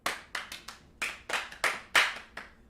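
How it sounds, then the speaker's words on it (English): About ten sparse, hesitant hand claps sound in an irregular rhythm, close and fairly quiet, with gaps between them. Each clap is a single crisp slap. "The world's most cowardly applause."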